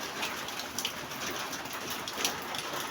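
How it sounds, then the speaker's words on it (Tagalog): Steady rain falls outside barracks, a soft continuous hiss with faint scattered drops and occasional distant bird coos, fairly quiet throughout. "Kasi po, umuulan pa."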